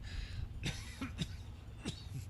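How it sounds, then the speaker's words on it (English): A few short, rough coughs break out one after another, close and fairly quiet, with no talking, from an announcer at a speedway trophy presentation. "I got in the middle of a cough there, couldn't get it out."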